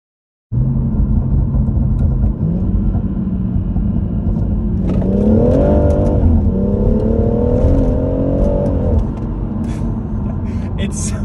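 A tuned stage 2 BMW M140i, around 450 bhp, accelerates hard with a loud, steady engine roar that rises in pitch through the gears, continuous from start to finish with no speech.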